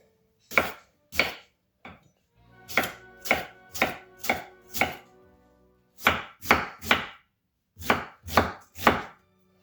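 A knife dices a halved, peeled onion on a chopping board, giving crisp chops in quick bursts of two to four strokes separated by short pauses, close and clear with no talking.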